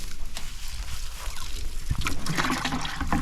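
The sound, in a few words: water dripping from hose-filled chicken water feeder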